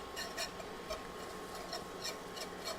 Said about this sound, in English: add 24 grams of flour. And you want to whisk that in.